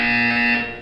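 A single loud electronic buzzer sounds in the video game Portal 2, a harsh, steady tonal blare lasting under a second before quickly fading out.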